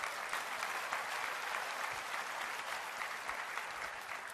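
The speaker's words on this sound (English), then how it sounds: "So give yourself a round of applause" A large audience applauds at Apple's WWDC 2015 developer conference, the dense clapping steady and sustained at an even level throughout.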